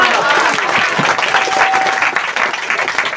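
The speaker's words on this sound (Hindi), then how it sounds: "तो एक बार नाम लेकर के बुलाएं और उनके लिए जोरदार ताली बजाएं।" Dense, continuous clapping from a congregation at a Hindi-language Christian church service, steady and fairly loud for about three seconds with a soft crowd murmur underneath.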